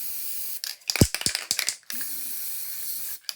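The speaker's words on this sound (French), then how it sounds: "je vais mettre de la colle spray" Spray glue aerosol sprayed onto fabric for a small craft tag, heard as close hissing bursts: a long steady spray, a cluster of short clicky spurts, then another sustained hiss and a brief final puff.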